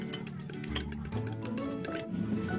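Eggs whisked in a bowl with a pinch of salt, stock powder and ground pepper, giving rapid light clinks and wet sloshing, close and steady with faint background hum.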